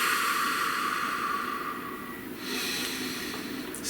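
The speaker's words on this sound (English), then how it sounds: "please take a nice deep breath" A slow, deep breath heard close up, a continuous soft airy hiss that dips and then rises again as the breath changes direction, with no speech.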